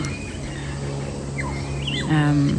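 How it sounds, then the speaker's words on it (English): Several birds chirp and whistle in short phrases over a steady outdoor hum beside a horse paddock, with a brighter burst of trilling calls near the end. "the birds are just amazing here"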